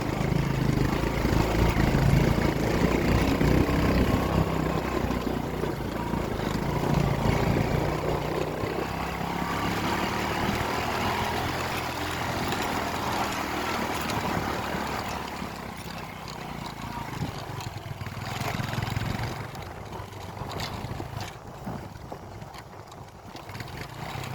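A Honda XRM 125 motorcycle engine runs on an off-road ride with a continuous, moderately loud rough drone that rises and falls slightly in effort and eases toward the end.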